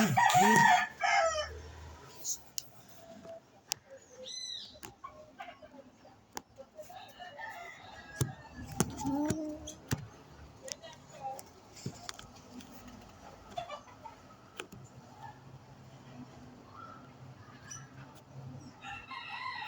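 Local chickens on a farm, a loud rooster crow up front followed by scattered clucks and bird calls at a distance over a quiet outdoor background, with a few sharp clicks and knocks.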